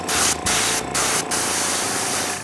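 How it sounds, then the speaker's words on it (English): Close, loud spraying hiss from an airbrush spraying varnish onto a wooden plaque, broken by three brief pauses before a steady continuous stream. "For that, I use my airbrush."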